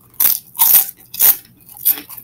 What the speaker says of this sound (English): I'm gonna start with these pork rinds because they're really good.